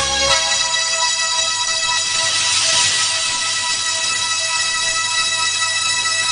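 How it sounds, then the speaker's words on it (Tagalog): A telephone rings in a dubbed Hong Kong gambling film, an electronic ringtone that is steady, loud and sustained, heard alone without talk. "Ang telepono!"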